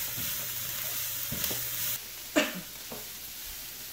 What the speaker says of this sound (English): Then saute well.